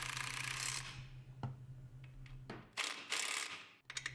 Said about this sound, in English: Tighten these bolts in a crisscross pattern.